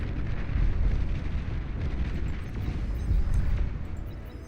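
Submarine weapons fire repeatedly in a Beyond All Reason 8v8 deathmatch, heard as a steady rumble of low booms and blasts that runs throughout with no talking.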